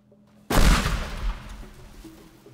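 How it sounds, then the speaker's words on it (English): A pipe bomb goes off in the Teardown video game, one sudden loud blast like a weak shotgun shot, followed by a rumbling decay that fades over about two seconds. "Man, the pipe bombs are like weak shotgun shots."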